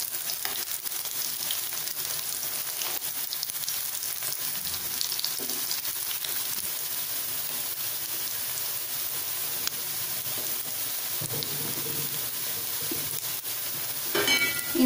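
Beetroot cutlets frying in a pan, a steady loud sizzle of hot oil that runs throughout, with a brief scrape of turning near the end.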